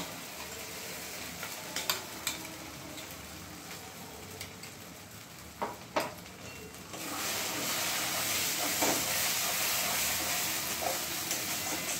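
A few clatters and scrapes give way to a loud, steady sizzle as ground spice paste hits hot oil in a wok and keeps frying up close.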